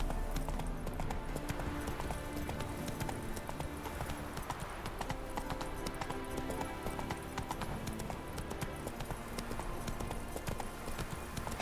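Hooves of Roach, a horse in The Witcher 3: Wild Hunt, drumming in a quick, steady galloping rhythm throughout, mixed with game music and ambience.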